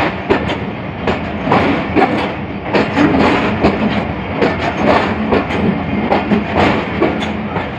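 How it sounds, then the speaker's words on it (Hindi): Allama Iqbal Express passenger train pulling into Kot Lakhpat station near Lahore for a scheduled stop, with steady loud rail rumble and rhythmic clickety-clack of wheels over joints throughout, close by. "गाड़ी जो वो कोट लखपत स्टेशन पर अपना शेड्यूल स्टॉप कर रही है"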